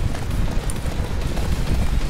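Horse hooves galloping in the Attack on Titan: Wings of Freedom video game, a steady rapid clip-clop rhythm running continuously under dense game noise, fairly loud and close throughout.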